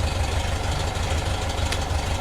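A 1972 VW bus engine idles smoothly after a tune-up, a steady low rumble held evenly and close throughout, with no voices over it.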